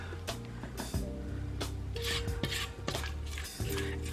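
A spatula scrapes pineapple cream cheese pound cake batter around a mixing bowl in repeated rubbing strokes, close and clear, with faint clinks between the passes.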